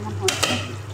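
Chicken curry with fried potatoes sautéing in a pan, a steady low sizzle broken by two quick sharp stirring scrapes near the start, close up with no talk.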